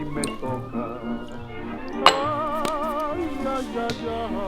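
Ice goes into a cocktail shaker for a Classic Daisy with bright clinks and rattles, one sharp knock standing out, up close over a soft, tonal background.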